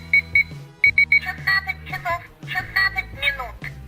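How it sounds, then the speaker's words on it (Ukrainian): A KK9905TR talking alarm clock goes off, sounding a series of short, bright electronic alarm beeps while a synthetic voice announces the time, the beeps and the voice alternating in a quick rhythm. "Під час спрацьовування будильника також оголошується і час."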